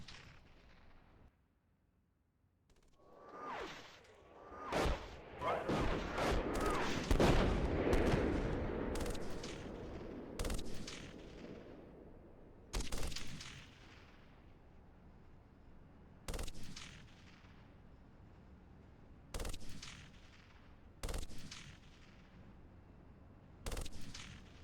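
Gunfire and heavy cannon shots in the armored combat simulator Steel Beasts Pro PE, with a CV90/30 vehicle involved, in a winter battle: a dense cluster of blasts early, then isolated sharp booms at spaced intervals, moderately distant.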